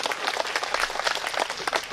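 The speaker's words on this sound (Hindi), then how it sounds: "एक बार तालियां बजाओ" An audience at a Hindi comic poetry gathering claps together, a brisk, dense burst of many hands, fairly close and continuous for the short stretch.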